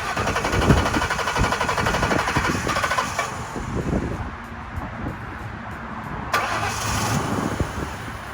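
A 1995-1997 Mercury Marquis or Crown Victoria starting after its fuel injectors were replaced, with the starter cranking and the engine catching, then settling into a steady close idle with a rattling, ticking edge.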